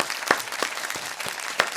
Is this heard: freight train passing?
no